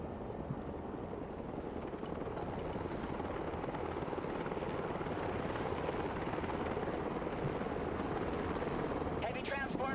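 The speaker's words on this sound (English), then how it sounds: "Heavy transport ready. Chinook reporting in." A Chinook heavy transport helicopter in the real-time strategy game Broken Arrow gives off a steady, dense rotor and engine roar that holds an even level throughout, with a faint higher whine near the end.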